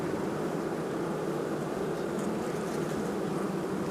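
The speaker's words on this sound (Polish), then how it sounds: "No popatrzcie się, jak pięknie wyniósł pszczół." A steady, dense buzzing of many honeybees leaving their nest comb fills the air continuously, loud and close, with no voices.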